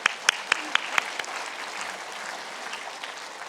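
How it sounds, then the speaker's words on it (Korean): Church congregation applauds during a guest sermon, a few distinct loud claps leading into a softer, steady wash of clapping that tapers off. "제가 우리들 교회 성도 여러분들에게 참석자를 대표하여서 인사를 드리면서 박수를 보내드립니다."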